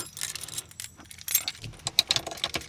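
Truck keys jangle close by during work on a diesel pickup, a burst of bright metallic clinks and rattles in quick irregular bursts.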